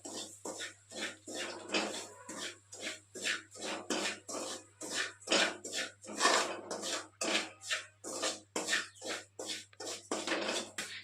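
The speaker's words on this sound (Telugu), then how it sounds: "ఇప్పుడు మళ్ళీ అదే బాండీలో కొంచెం నెయ్యి వేసుకొని 1 కప్ రవ్వ ఫ్రై చేసుకుందాం." Semolina frying in ghee in a kadai, with a steady run of rhythmic scraping and stirring strokes against the pan, close and fairly even, over a faint low hum.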